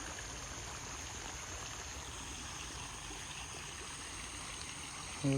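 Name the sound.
rainwater flowing near flooded road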